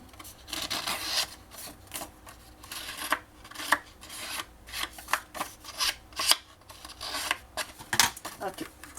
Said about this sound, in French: Mon ciseau ne coupe pas bien, parce que j'ai coupé quelque chose de collant avec.